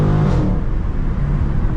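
A Dodge Challenger Scat Pack Widebody engine revs hard in low gear, a loud, deep, close roar with a strong pull that holds steady throughout.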